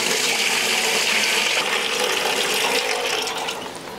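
Blended pandan water is poured steadily into a pot for mixing a rice-flour batter for tepung pelita, a loud continuous rushing splash that eases off near the end, with no talking.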